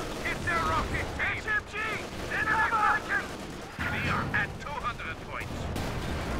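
Rocket artillery firing in Company of Heroes 2 on the Port of Hamburg map, a rolling barrage of launches and blasts over battle rumble, with high whistling rocket streaks across the middle and end.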